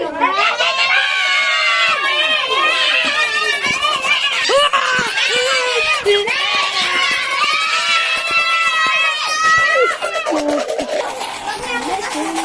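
Children shout and scream loudly and continuously up close indoors at home, with overlapping high-pitched voices and chatter sustained throughout and a brief dip near the end.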